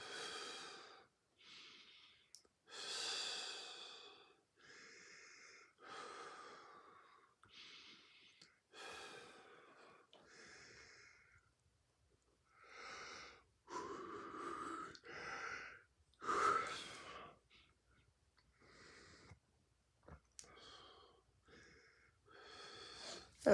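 Slow, deep breaths during a stretching exercise, each long inhale and exhale audible close by as a soft airy rush, repeated in an even rhythm with quiet pauses between, with no talk.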